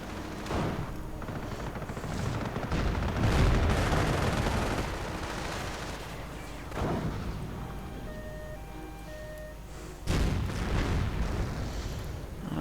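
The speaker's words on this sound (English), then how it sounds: "the anti-tank gun opening up on the Panther" An anti-tank gun fires on a Panther tank in a video game battle: several heavy, booming shots with rumbling tails, spaced a few seconds apart over a continuous din of combat.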